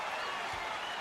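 Crowd in the College Hoops 2K8 basketball video game: a steady, dense wash of applause and cheering through the whole moment.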